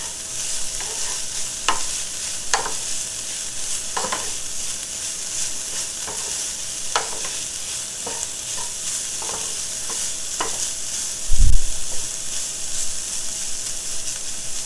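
Impossible meat crumbles fry in a pan with a steady sizzling hiss, while a utensil stirs them in a series of short scraping strokes, and one low thump lands near the end.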